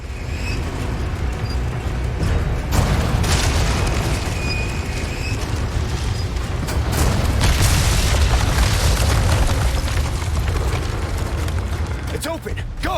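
Cannon fire blasting castle gates in the Resident Evil 4 Remake video game: loud, continuous booming rumble with repeated heavy bursts, while a voice talks over it.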